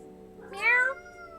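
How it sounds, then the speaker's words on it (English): A cat meows once inside the video game Coffee Talk 2, a single drawn-out, rising and falling call over a soft steady background hum. "Meow."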